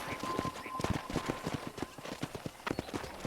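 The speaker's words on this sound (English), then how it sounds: "let's see if you can still ride a horse." Horse hooves clip-clop in a steady, fairly quick rhythm in the Red Dead Redemption video game, close and distinct throughout, with game ambience underneath.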